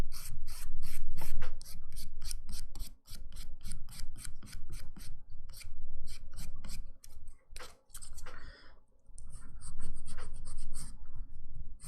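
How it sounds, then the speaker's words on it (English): A hand file rasps over dip powder nails in quick back-and-forth strokes, close and crisp, in an irregular rhythm with short pauses between bursts and no talking. "we're just going in with our hand file to get rid of some of that bulk."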